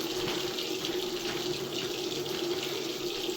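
Lukewarm tap water runs steadily from a faucet for filling a nano aquarium, a constant close hiss and splash that holds even and unbroken throughout.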